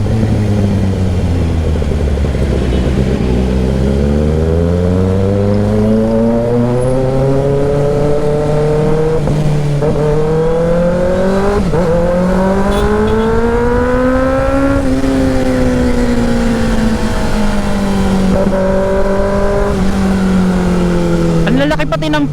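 Engines in slow traffic on a rainy road rumble near and loud, their tones rising and falling continuously as cars creep and accelerate.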